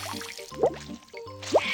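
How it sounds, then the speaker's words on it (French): Hands are washed with soap under running water, giving wet squishing, splashing and dripping sounds in a few short bursts, close by and without speech. "je me lave les mains avec du savon"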